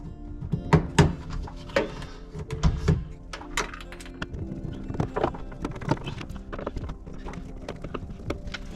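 Plastic B-pillar trim clips on a rusty 1998 Subaru Impreza 2.5RS pop loose in a series of close, irregular knocks, snaps and thunks as the panel is worked free by hand.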